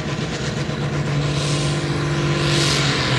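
A pulling tractor with a 6.6-litre diesel engine drones loudly at a tractor-pulling event in Nurmes, Finland, holding a steady heavy roar that swells slightly toward the end.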